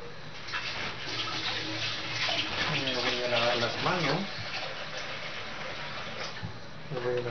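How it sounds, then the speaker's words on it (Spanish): Hands washed under a running kitchen tap while cooking, a steady close rush of water with a voice speaking over it. "Voy a lavar las manos"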